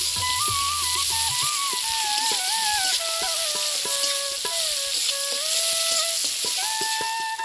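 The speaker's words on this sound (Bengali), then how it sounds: "এবার পেঁয়াজটাকে লাল লাল করে ভাজবে।" Chopped onions fry in mustard oil over a sugar and dried-chilli tempering, giving a loud, even sizzle with scattered pops and a wavering whistle-like tone riding above it.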